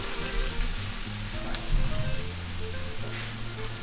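Peppers fry in a pan with a dense, steady sizzle and crackle that carries on loud and close, a few soft stirring knocks rising above it.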